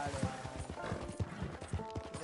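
Horse hooves clip-clop in Red Dead Redemption II, a steady rhythmic trot of dull thuds at close range with game sounds around, while someone talks over it.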